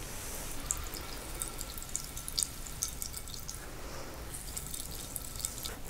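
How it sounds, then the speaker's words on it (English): Liquid strained from grated cucumber squeezed in a clean dish towel, a faint continuous trickle with small scattered drips, quiet and close with no talk. "I'm going to put the cucumber in this towel and then strain out even more liquid."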